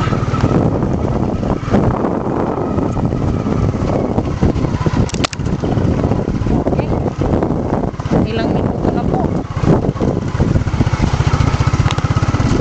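A motorcycle engine runs continuously and close by with heavy wind buffeting the microphone, while a voice speaks briefly over the steady drone.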